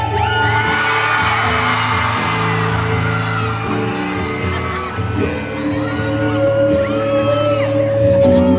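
A concert crowd in Baybay City, Leyte shouts and whoops loudly over amplified music, sustained cheering and yelling that swells and dips while instruments and singing continue beneath.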